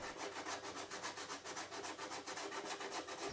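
Epoxy wood grain filler being sanded with 320 grit sandpaper makes a steady, rhythmic back-and-forth rubbing, fairly quiet and close, with even strokes repeating about four times a second.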